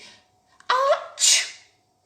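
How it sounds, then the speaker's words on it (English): A single close, loud sneeze: a sharp inhaled build-up followed by an explosive burst of air, alone with no talking. "Or if you have to sneeze"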